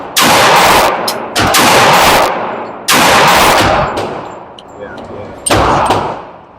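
Glock G30 .45 ACP pistol firing at an outdoor range: four loud, close, sharp shots spaced roughly a second or more apart, each with a brief decaying echo tail.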